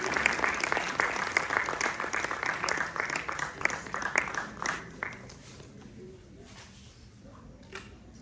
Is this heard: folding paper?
no